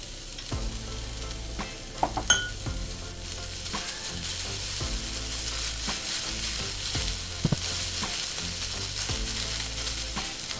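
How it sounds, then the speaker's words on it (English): Diced peppers fry in a pan for a breakfast frittata, producing a steady, close sizzle throughout, with a few faint utensil taps and scrapes over it. "add in your diced peppers and continue cooking for another 30 seconds"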